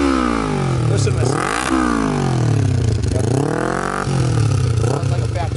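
Kawasaki Ninja 250 motorcycle with a stainless header full exhaust revs hard several times, its loud engine note sweeping up and falling back in repeated throttle blips, close by.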